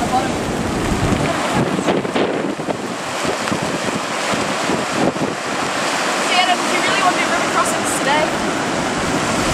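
A rushing river roars steadily below Wairere Falls in the Kaimai Range during a storm, loud and close, while gusts of wind buffet the microphone throughout.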